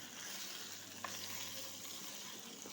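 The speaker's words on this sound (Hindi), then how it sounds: "अब इसमें हम चिकन ऐड कर देंगे और चिकन को फ्राई करते हैं।" Chicken frying in a pan for homemade nihari: a faint, steady sizzle throughout, with only slight stirring ticks and no voices.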